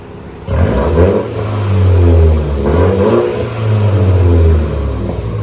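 A 2015 Mini Cooper with a straight-pipe exhaust revs hard and close, rising and falling in a loud, raspy engine roar held over several seconds, with no speech.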